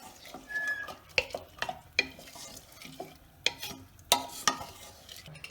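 A spoon stirs salt into rice in a pressure cooker over a high flame, with a series of sharp metallic scrapes and taps against the pot over faint sizzling.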